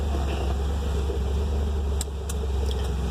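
A 1978 Fiat engine idles steadily after starting, with a low, even rumble that stays close and constant throughout, while a few faint clicks come in near the end.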